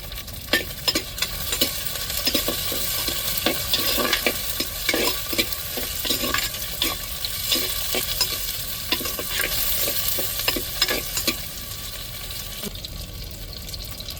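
Onions, tomatoes and chillies sauté in a hot pan, a loud steady sizzle broken by regular scraping stir strokes from a spoon, close up and continuous without any talking.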